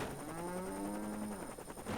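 Flying cows mooing in the video game Worms Ultimate Mayhem, a drawn-out cartoonish moo that rises and falls over game background sound, fairly loud.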